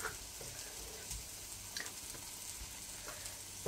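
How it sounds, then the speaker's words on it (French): Tomatoes and a little onion softening in a frying pan give a low, steady sizzle throughout, faint and close, with a few soft stirring clicks and no talking. "je viens faire fondre un petit peu les tomates"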